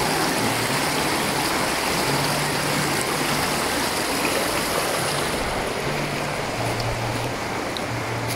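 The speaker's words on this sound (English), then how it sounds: "this is a small waterfall, but there is big waterfall right here" A small waterfall pours in a steady, dense rushing splash, constant and close throughout with no pauses, with faint low hum beneath.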